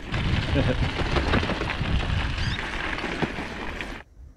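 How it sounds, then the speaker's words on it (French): Thunder from an approaching storm over a rough road in Guyana, a loud sustained rolling rumble with crackling bursts that carries on for about four seconds before fading out. "Un orage s'en vient."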